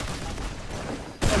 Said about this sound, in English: I just shot at my team by accident